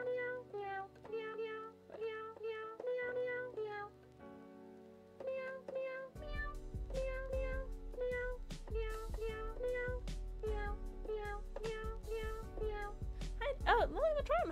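A cat piano toy on its meow setting plays a tune as a rapid run of synthetic meows, first sparse and then over a thumping backing beat, loud and close, with a rising warble near the end.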